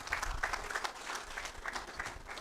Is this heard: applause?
yes